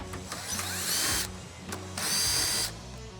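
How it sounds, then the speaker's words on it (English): A power tool fitted with a 10mm socket removes bumper bolts on a 2014-2018 Chevrolet Silverado, whirring loudly in two long close bursts with a brief blip between them. "So to get these out, we're gonna use a 10mm socket."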